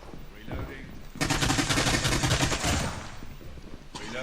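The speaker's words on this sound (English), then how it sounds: "Oh, it's a shotgun." Shotgun blasts ring out in the Call of Duty: Mobile shooter game played on a PC laptop, a dense burst of loud overlapping shots following a quieter lead-in, with faint game sounds around.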